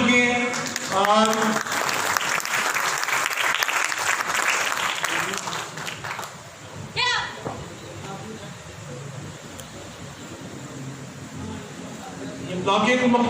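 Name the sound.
audience applauding loudly at taekwondo demonstration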